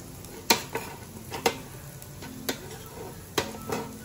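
Leftover rice stirred in a pan to make garlic rice for breakfast: a steady soft sizzle with several sharp clinks and scrapes of a spatula against the pan, spaced irregularly.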